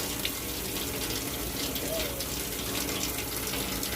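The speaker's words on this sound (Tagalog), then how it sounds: "turn on the water" A tap runs at a sink in a steady, full gush of water filling the moment close by, with no break in the flow.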